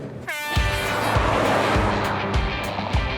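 A Jaguar F-Pace SUV in dynamic mode revs hard on a fast lap, its engine note rising and falling through gear changes, loud and close with a steady roar and brief dips between shifts.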